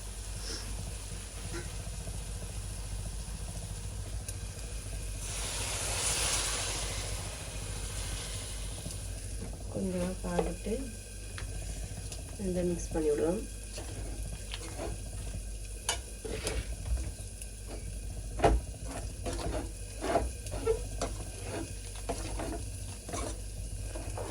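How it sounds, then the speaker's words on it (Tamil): Snake gourd and onion fry in a pan with a soft continuous sizzle, broken by stirring scrapes and clinks of a utensil against the pan. "நல்லா வறுபடுது"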